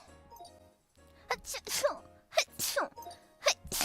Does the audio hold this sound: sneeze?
yes